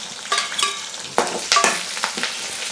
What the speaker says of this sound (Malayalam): ചെറിയുള്ളി, ഇഞ്ചി, വെളുത്തുള്ളി എല്ലാം ഇടുവാണ്